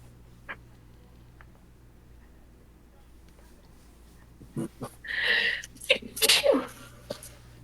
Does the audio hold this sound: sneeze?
yes